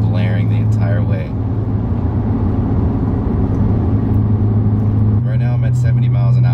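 A BMW E90 328i with a dual exhaust conversion cruises at 70 mph near 2,500 RPM, producing a loud, steady low drone inside the cabin while someone talks over it.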